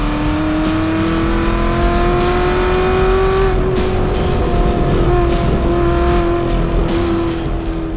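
A heavily modified 2019 Chevy Camaro ZL1 1LE race car at Pikes Peak hill climb, engine droning loudly and steadily under load with a rising pitch, close and continuous throughout.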